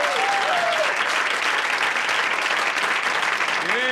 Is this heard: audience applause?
yes